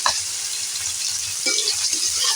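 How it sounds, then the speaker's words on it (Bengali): Soybean chunks coated with turmeric and salt hit hot oil, giving a close, even sizzle with a few brighter crackles and a soft stir partway through, with no voice over it. "হালকা করে হলুদ দিয়ে দিলাম আর লবণ দিয়ে দিলাম এগুলো হাতে করে একটু মিক্স করে নিলাম তেলের ওপরে দিয়ে দিলাম"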